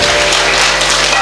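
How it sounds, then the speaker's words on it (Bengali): An audience at a devotional talk claps hands in a loud, dense burst of applause, close and continuous, with a voice faintly underneath. "আপনি হাততালি দিবেন নাকি?"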